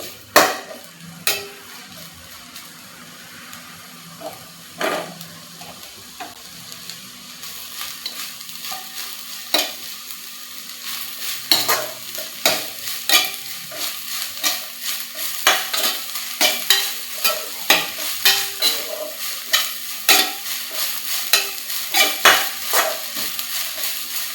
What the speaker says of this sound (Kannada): ವಾಸನೆ ಹೋಗೋ ತನಕ ಎಲ್ಲ ಚೆನ್ನಾಗಿ ಹುರ್ಕೋರಿ ಅದನ್ನು